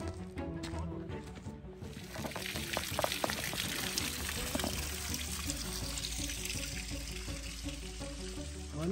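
A mountain stream rushes and gurgles near a trail to Khajund lake in Chamba, Himachal, its water flowing loudly and continuously throughout with no voices.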